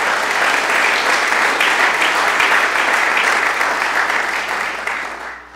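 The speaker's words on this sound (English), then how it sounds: "So give them a round of applause," A large summit audience bursts into sustained, dense applause that stays loud and even for several seconds, then begins to thin and fade at the end.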